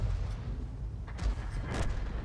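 A tank cannon shell fired in World of Tanks from an Object 261, heard as a couple of short muffled booms over a low rumbling background, moderately faint and distant.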